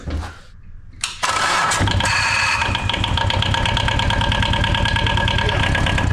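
A Yanmar engine in a moped microcar cranks briefly, catches and settles into a loud, steady, rapid putter at idle, close by, with some voices around it.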